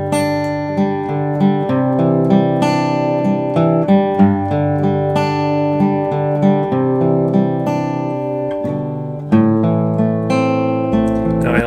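Acoustic guitar plays the intro riff of a song, with bright plucked notes ringing over steady bass strings in a continuous, rhythmic phrase, close and clear with no voices.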